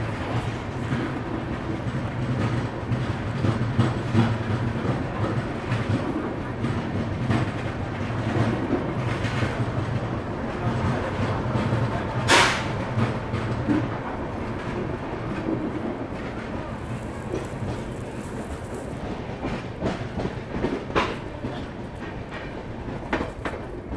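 The 12716 Sachkhand Express accelerates away from Jalandhar City station in India, a loud continuous rumble of wheels and carriages heard from inside the train, with steady rhythmic rail clatter and a brief high squeal midway.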